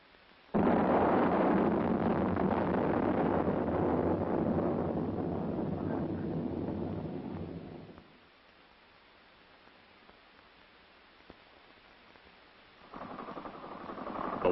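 Field artillery firing, including rockets from a 115mm M91 multiple rocket launcher, produces a long, loud, sustained rumbling roar of blasts and explosions, then fades to quiet wind before another heavy rumble rises near the end.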